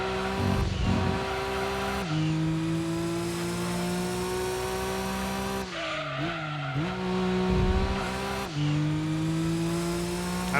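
A car in the racing game Gran Turismo 2 drives into corners, its engine a steady loud drone that holds pitch, dips and rises through the turns, with bursts of tire squeal and skidding in a few spots.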